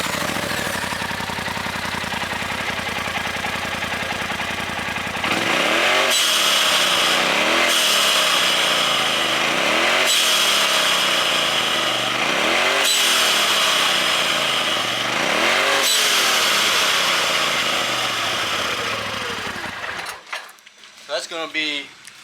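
A Polaris RZR Pro XP engine fitted with an aluminum RPM blow off valve cranks and fires up, then revs repeatedly in rising bursts, each ending in a sharp whooshing valve release, loud and close before cutting off.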